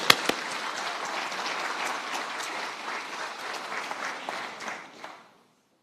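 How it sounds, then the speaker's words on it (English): An audience applauds after a Pacific dance performance, with a few sharp whoops at the start, then sustained loud clapping that thins out and stops after about five seconds. "let's give them a big round of applause"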